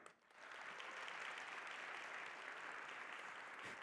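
Audience applause at a live talk on going viral on social media, a dense, steady crowd of clapping that swells in quickly and holds loud and even throughout, with no voices over it.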